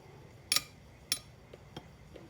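A spoon easing pickled peppers down into a glass jar of eggs, a few sharp clinks of metal against glass followed by softer taps, close and quiet.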